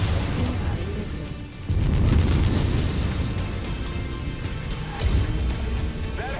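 A heavy missile explosion in the mech combat game MechWarrior 5 lands with a loud, deep boom, followed by a rumbling roar and a second blast about three seconds later.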